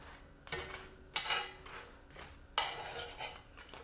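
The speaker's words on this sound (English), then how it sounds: "This pan's about cleaned out. I'll take a towel to it and it'll get hung back up as soon as it cools." Metallic scraping and clanks as a cooling pan is rubbed and handled, three or four separate bursts of scuffing contact with short quiet gaps, fairly close and moderately soft.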